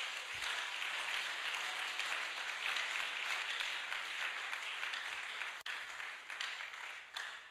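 A church congregation applauding during worship, a broad continuous roar of clapping heard from some distance and fairly faint, holding steady throughout with a brief dropout near the end.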